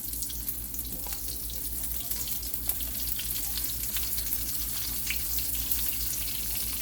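Whiting fish fillets seasoned with Cajun seasoning fry in oil over medium-low heat, giving a steady, even sizzle with fine crackle that holds throughout, close and moderately loud, with no talking.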